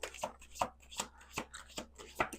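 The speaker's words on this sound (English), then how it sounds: "I'm going to do one more shuffle." A deck of cards being shuffled by hand, a handful of soft, quick riffling bursts in a quiet room.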